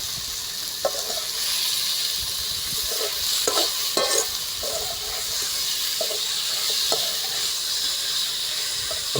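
Broiler chicken pieces dropped into a hot pan sizzle steadily and loudly, with intermittent stirring scrapes and clinks over the continuous hiss, no one speaking.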